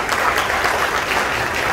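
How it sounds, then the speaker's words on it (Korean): At a Korean Automobile Day ceremony in a Seoul hotel's champagne hall, a large audience applauds a professor, producing a short, dense, steady roar of clapping with no talk. "좋은 말씀해주신 김천욱 교수님께 다시 한번 큰 박수 부탁드립니다."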